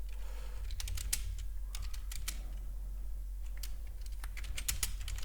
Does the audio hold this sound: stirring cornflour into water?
no